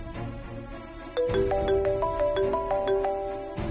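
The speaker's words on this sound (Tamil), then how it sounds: "ராசாத்தி தான் ஃபோன் பண்றா" A mobile phone ringtone plays in a Tamil TV serial scene, a bright melodic chime of quick repeating notes that rings on for a few seconds at close range.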